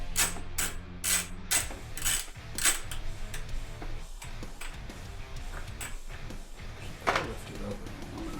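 A wrench spins with quick metallic ratcheting clicks in short bursts while a taillight is being removed, close and fairly quiet, with some low handling noise between the bursts.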